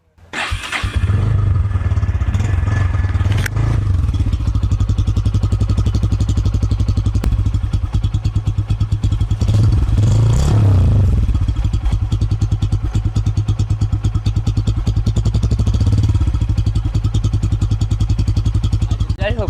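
A motorcycle engine starts and runs, held loud and close throughout, with its steady idle rising into revs near the middle and again later, a faint clatter over the engine's drone.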